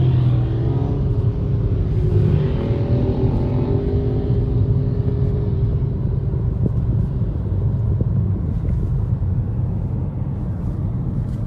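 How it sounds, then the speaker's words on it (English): A motorcycle passes on a road in Warrnambool, heard over the steady, loud rumble of a car travelling along, with a rising engine note swelling briefly before blending back into the road noise. "Motorcycle."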